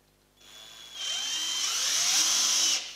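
A power drill whines up to speed and bores steadily through a sanshin or shamisen body, close and loud, holding a rising pitch for about two seconds before stopping.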